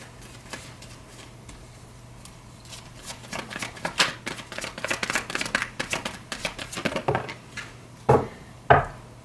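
Romance Angels Oracle cards being shuffled by hand, a steady run of crisp riffling and slapping card sounds up close, ending with a couple of louder taps as the deck is squared, no talking.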